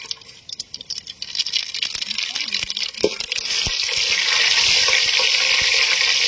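Hot oil crackles and sizzles steadily as whole spices like cinnamon go in for a country chicken curry, the frying building to a loud continuous hiss after a few scattered clinks and taps.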